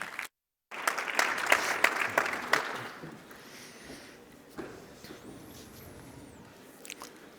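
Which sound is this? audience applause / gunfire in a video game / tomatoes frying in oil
audience applause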